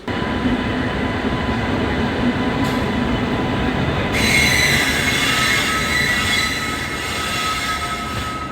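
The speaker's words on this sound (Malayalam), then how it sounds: "തിരുനെൽവേലി ദാദർ സൂപ്പർ ഫാസ്റ്റ് ആണ് കേട്ടോ ഈ വരുന്നത്" The Tirunelveli–Dadar Superfast express passes close by with a loud, steady rumble of wheels on rails, a thin high-pitched squeal of the wheels, and a brighter hiss partway through as the coaches rush past.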